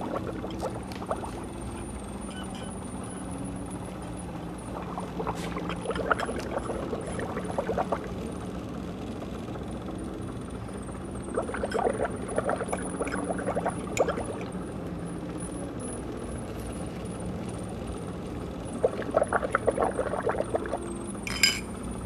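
Bubbling from a straw blown into soapy water in a mug, coming in several gurgling bursts over a steady background hum.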